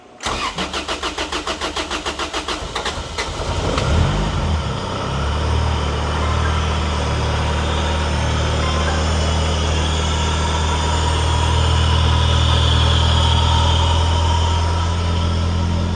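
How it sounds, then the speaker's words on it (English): Supercharged Honda B18C engine cranks with rapid rhythmic starter pulses for about three seconds, catches and fires, then settles into a steady, fairly loud idle heard up close with no talking. "Crank right up there, didn't it, Mike?"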